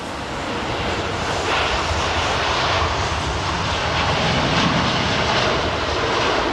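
An aircraft arriving on runway 27R at London Heathrow Airport, a loud, continuous broadband engine roar that stays close and steady the whole time.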